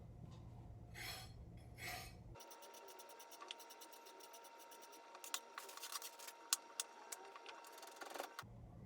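A knife slices carrots on a cutting board while vegetables are prepped for sautéing with onion, giving a run of crisp, irregular chopping clicks and scrapes close by with no talking.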